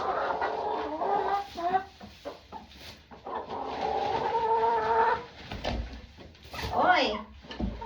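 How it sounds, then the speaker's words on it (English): Chickens clucking and squawking close by, loud and irregular, with a person talking over them at times. "My chicken are very loud."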